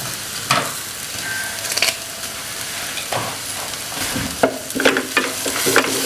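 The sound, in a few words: sautéing with curry leaves in a pan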